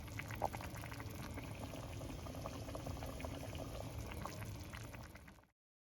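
Fish curry simmering in a pot, a continuous close bubbling and gentle boiling with no speech, cutting off abruptly near the end.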